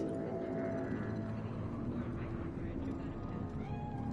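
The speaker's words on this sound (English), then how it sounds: "Fine-looking feline." A cat meows inside the video game Cyberpunk 2077, fairly faint and partly blended with steady game ambience and background sound throughout.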